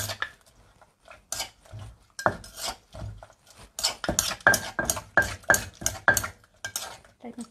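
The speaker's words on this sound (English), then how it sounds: "I mix it so make sure the ingredients mix well" Thai papaya salad ingredients being tossed and mixed in a bowl, with rhythmic wet squelching scrapes and utensil clinks repeating close up, growing busier toward the end, and no voices.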